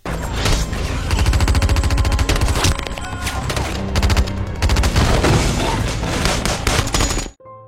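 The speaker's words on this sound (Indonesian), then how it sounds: "pasukan pemberontak menembakkan mortar ke markas CIA" Heavy, loud bursts of rapid gunfire with booming mortar blasts mixed in, dense and continuous, ending abruptly.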